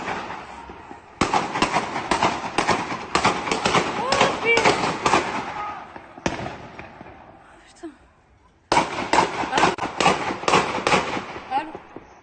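Live gunfire in a street clash between armed gangs in Valence, heard as dense bursts of sharp, rapid cracks in several long volleys broken by brief pauses, with voices underneath.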